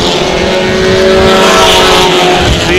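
Race cars roar loudly and continuously on the oval at Airborne Speedway, engines droning together at close range as a pack battles through the final lap.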